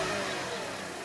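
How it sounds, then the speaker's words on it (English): A car engine being revved with quick snap throttles during an exhaust leak check, giving a brief, loud, steady roar with no talk. "I'm just gonna rev it up a little bit, couple of snap throttles."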